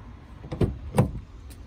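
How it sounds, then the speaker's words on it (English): Electric windows on a Hyundai Tucson SUV, two short motor whirs and a soft clunk heard close inside the cabin, with no speech. "electric windows and mirrors here"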